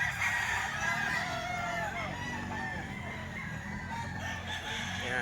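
A seven-month-old Hatch Gray gamefowl rooster crows loudly and close, one long drawn-out call that fills the clip with steady, strained tone.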